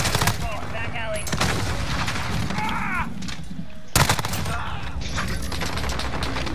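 Rapid automatic gunfire rattles almost nonstop on the Shoot House map in Modern Warfare, near and loud, with a sharp burst standing out partway through and voices talking beneath the shooting.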